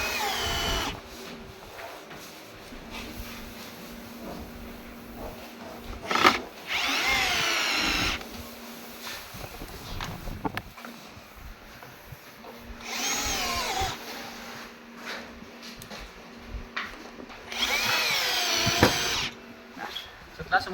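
A power drill tightens bolts on a Yokisa massage machine in three or four close, loud whirring bursts of a few seconds each, with quieter handling sounds and a person talking in between.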